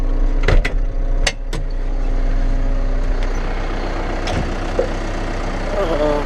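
A wheel loader's diesel engine idles steadily at close range through the whole stretch, with a few sharp hissing bursts early on and a person speaking over the running engine.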